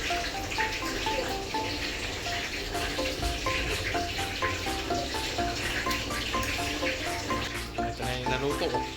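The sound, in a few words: frying lechon kawali pork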